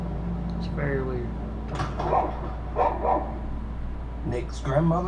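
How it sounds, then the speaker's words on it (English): A dog makes growling and barking sounds toward a kitchen at home, several short vocal bursts spaced across a few seconds over a constant low hum, with a person talking in between. "dog starts to growl toward the kitchen for no reason"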